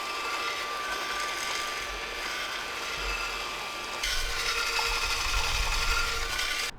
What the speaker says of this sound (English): once we descaled it with the chains, like we just did